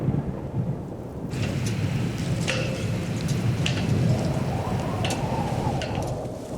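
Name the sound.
rain and thunder at sea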